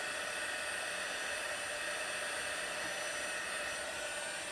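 Heat embossing tool blowing hot air over embossing powder on a heat-resistant craft mat, a steady loud whooshing fan noise that runs unbroken throughout.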